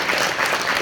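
An audience at a talk by a DACA recipient breaks into applause, a dense, steady wash of many hands clapping together for under a second, loud and continuous.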